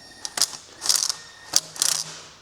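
Ratchet wrench tightening bolts on an Audi wishbone during a suspension replacement, several short bursts of rapid clicking separated by brief pauses, close and fairly crisp.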